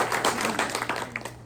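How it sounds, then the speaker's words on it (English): A crowd at a press luncheon applauds athletic trainers in a short burst of scattered clapping from many hands. "Let's give them another round of applause."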